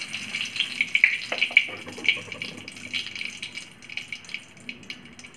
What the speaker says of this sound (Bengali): তেল দিয়ে দিলাম। তেজপাতা দিয়ে দিলাম,